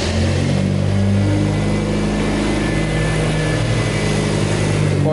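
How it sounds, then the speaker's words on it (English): A car that has just been swapped from automatic to manual transmission starts up and revs, the engine roaring loudly and steadily up close with rising and falling revs. "The car starts,"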